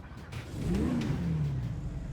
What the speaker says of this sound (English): let's hear how this car sounds